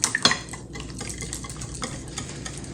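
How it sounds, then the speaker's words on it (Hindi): Sugar, oil and eggs being whisked together in a bowl for marble cake batter, rapid rhythmic clinking and scraping of the whisk against the sides, close and steady, with a few louder knocks at the start. "अब इसको अच्छी तरह मिक्स करते हैं।"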